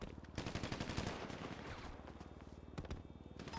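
Rapid automatic gunfire from a street shootout in the video game GTA, dense bursts of shots rattling continuously with a few sharper cracks near the end, loud and without talk.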